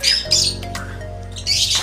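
A wild bird squawks loudly in harsh bursts at the start, again briefly, and near the end, over a steady low hum.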